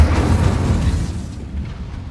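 Incendio fire spell cast in Hogwarts Legacy, a loud low whooshing boom of flame that rumbles close and fades over about two seconds, no voices.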